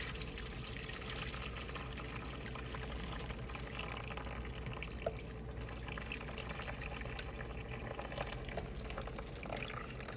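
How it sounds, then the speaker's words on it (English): Chicken birria juice from a slow cooker poured through a strainer, a steady, close trickling and splashing of liquid that runs unbroken, with a brief clink partway through. "I'm going to take some of the juice out of here, but I'm going to strain it and put some back in there"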